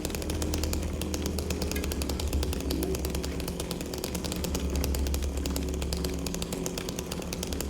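A chainsaw in the Silent Hill 2 remake runs in a continuous loud, rasping buzz with a rapid even pulse, a repetitive looping sound lasting the whole stretch without voices.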